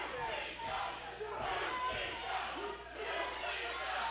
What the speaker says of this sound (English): the fans right now are cheering for UCW